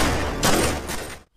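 A rapid burst of gunfire from a film action scene in which a pistol is used, loud and dense with several sharp reports packed together, cutting off abruptly to near silence at the end.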